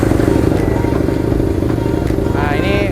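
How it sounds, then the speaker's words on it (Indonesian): A Husqvarna Nuda 900R motorcycle, with its BMW-derived engine, idles with a loud, throbbing, steady engine rumble close by, with clattering mechanical ticks, while a person talks over it near the end. "kita akan coba mendengarkan aja perbedaan suaranya dari Husqvarna Nuda 900R dan Ducati Street Fighter 848"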